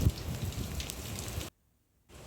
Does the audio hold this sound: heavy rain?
yes